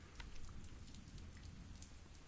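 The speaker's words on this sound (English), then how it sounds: "It's a gentle pitter-patter at first, but quickly ramps up into a steady downpour" Steady rain pours onto a city sidewalk, a dense, even hiss of drops with low rumbling wash underneath, constant and close with no voices.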